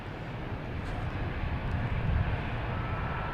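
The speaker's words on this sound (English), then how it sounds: "That racket we just heard was the JetBlue vacations livery." A JetBlue airliner's jet engines roar at Boston Logan Airport, a loud, steady, broadband rumble that holds throughout and swells slightly near the middle.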